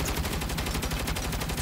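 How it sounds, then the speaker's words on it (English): Video game gunfire rattling continuously in dense rapid bursts, loud and close with no pauses and no voices. "Shut up and shoot."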